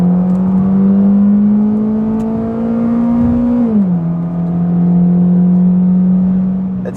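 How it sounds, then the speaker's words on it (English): Toyota Altezza four-cylinder engine pulling in second gear, a harsh, steady drone that climbs in pitch, drops briefly at a shift or lift around the middle, then holds again, loud and close with no talking. "it's just a very harsh sounding 4-cylinder"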